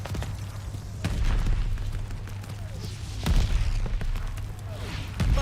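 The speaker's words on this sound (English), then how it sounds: "Allied mortar fire inbound." Mortar fire explosions in Call of Duty Vanguard, several deep booms landing one after another over a constant low battlefield rumble, with a voice speaking partway through.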